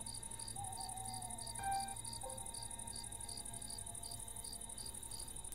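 Crickets chirp in the Nether in the Minecraft video game, a steady, high pulsing trill repeating evenly throughout, with a faint low ambient hum and a couple of soft tonal game sounds underneath.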